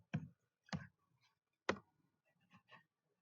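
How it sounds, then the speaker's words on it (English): Keys clicked on a computer keyboard typed one-handed, five quiet, separate taps at uneven intervals with silence in between. "I'm typing with one hand because my other hand is actually hurt"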